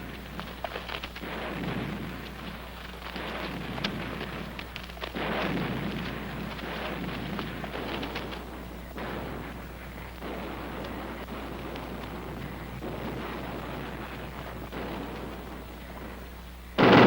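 Distant mortar fire in a Korean War film, a continuous rolling rumble of thundering blasts swelling and fading with no clear gaps, heavy and low, ending with a sudden louder burst.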